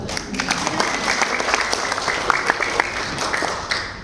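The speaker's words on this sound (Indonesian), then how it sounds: "Tepuk tangan dong." Audience applause at an indoor health talk, a steady patter of many hands clapping for about four seconds at moderate loudness.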